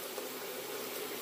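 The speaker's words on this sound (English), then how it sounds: "Let me pour a little bit of hot water into the sink here" Hot water runs into a bathroom sink during shaving lather preparation, a soft, steady trickling stream heard close but faint, continuous for about a second with no talking.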